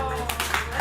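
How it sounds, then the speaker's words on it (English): Brief scattered clapping from an open mic crowd at the Nuyorican event in the Loisaida Center, a few sharp claps over a sustained tonal backing. "Yo, can I get a clap?"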